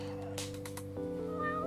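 A cat meows in the video game Yakuza 6, a few short calls over a steady, droning background tone of game music.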